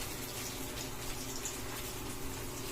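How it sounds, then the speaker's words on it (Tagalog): Leftover water from cooking maruya, a banana fritter batter, poured away in a steady splashing gush that runs continuously at moderate loudness with no voices. "Tinapon ko yung ibang tubig."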